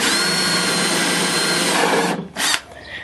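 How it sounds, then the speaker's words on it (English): A power drill fitted with a half-inch bit bores into roof decking with a loud, steady whine for about two seconds, then stops and gives a short second burst. "just use a big drill bit, 1/2-inch drill bit"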